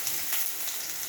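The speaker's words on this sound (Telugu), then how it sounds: "ఆయిల్ వేడైంది, జీలకర్ర వేస్తున్నాను." Cumin seeds in hot oil for tomato and ridge gourd chutney give a brief, steady crackling sizzle, close and moderately loud.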